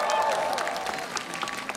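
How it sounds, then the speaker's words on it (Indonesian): Audience applause at the Prambanan Jazz 2019 open-air concert, dense clapping with a steady wash of crowd noise and a faint tonal hum underneath, fading slightly over a short burst. "boleh tepuk tangan buat teman-teman semua malam hari ini"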